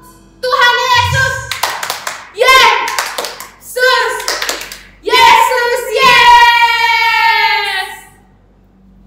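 Children at a church Sunday school service clap their hands in steady rhythmic bursts along with a lively sung chant. The claps sound close and loud, mixed with singing voices.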